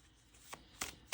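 Playing cards handled and shuffled for a soul-message reading, two or three quick riffling bursts, close and fairly soft, with no talk.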